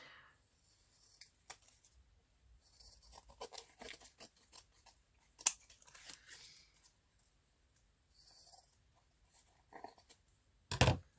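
Scissors snip and trim around a handmade paper tag for craft ephemera, giving scattered crisp cuts and paper rustles with quiet pauses between, ending in a louder close handling noise.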